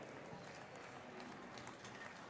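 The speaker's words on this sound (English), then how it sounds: "Round of applause from the Air Force, Lisa McCrane" A crowd at the 2019 Department of Defense Warrior Games applauds Air Force powerlifter Lisa McCrane after the women's 67 kilo flight, a faint, steady patter of clapping from a distance.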